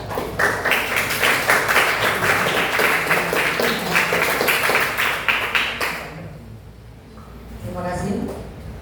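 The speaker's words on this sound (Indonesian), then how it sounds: "Tepuk tangan semua." A class of students applauds after a group presentation, with many hands clapping in a quick, steady patter for about six seconds before it dies away and a voice speaks.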